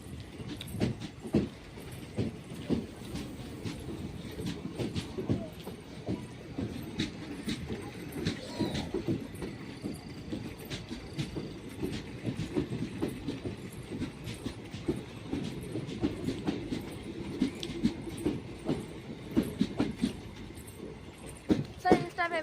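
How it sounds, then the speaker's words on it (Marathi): A train runs along the tracks on the way to a Konkan village, a steady rumble with repeated rhythmic clacks of the wheels heard from inside a carriage, continuing for a long stretch. "ट्रेन चाललेली आहे."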